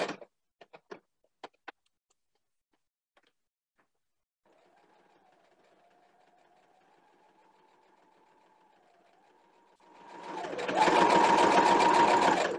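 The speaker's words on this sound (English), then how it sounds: "If you have used the sewing machine before" A sewing machine at a doll-making workshop starts after a few light clicks and a faint whirring hum, then runs in a loud, fast, steady stitching rattle for the last couple of seconds.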